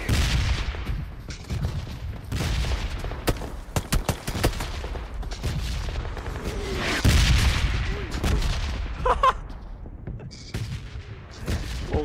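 Rapid gunfire in the PUBG Mobile video game, with bursts of shots crackling close and loud, overlapping explosive booms and rattling automatic fire across a busy firefight, the shots coming in uneven clusters with brief lulls between them.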